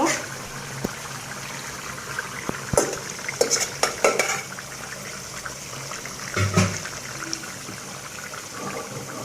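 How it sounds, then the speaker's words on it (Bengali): Eel fish for a traditional Rajshahi chorchori is added to a pan and fries with a steady sizzle, punctuated by stirring and scraping knocks of a utensil against the pan, heard close and continuous. "এখন আমি মাছটা দিয়ে দেব।"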